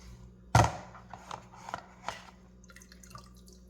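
Water splashes in a kitchen sink as a watermelon is rinsed, with one sharp splash followed by a few lighter drips and splatters over a steady low background hum.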